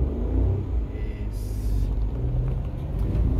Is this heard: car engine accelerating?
yes